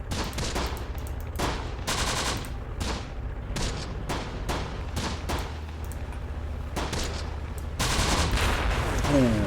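Explosions and bursts of fire in the WWII strategy game Close Combat: The Bloody First, loud repeated blasts and rattling volleys in quick succession, with a brief exclamation from a voice.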